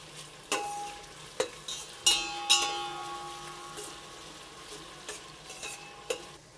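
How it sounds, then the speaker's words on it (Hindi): Onions frying in a pan until light golden, a steady soft sizzle broken by several sharp clinks and scrapes of a spoon stirring against the pan, close and without speech. "अनियन को लाइट गोल्डन हो जाने तक फ्राई कर लेंगे।"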